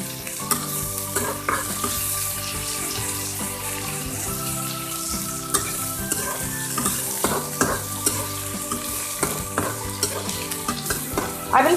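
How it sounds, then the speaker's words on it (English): Onions frying in a pan for a gravy, a steady sizzle with repeated scraping stirs and clinks of the utensil, close and clear, with faint running water. "I will fry the onions until they turn golden brown in color"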